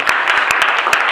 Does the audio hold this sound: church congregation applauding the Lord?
yes